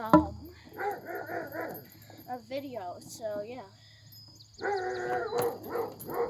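Pet dog barking outdoors, a few bursts of close, loud barks and yips with short whimpers between them, while a person talks and crickets chirp faintly behind.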